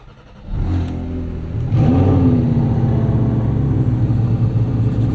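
A 2023 Porsche 718 Cayman GT4 RS started with a key: a brief crank catches into a loud, close engine roar that surges as revs climb, then settles into a steady, rumbling idle with no talk.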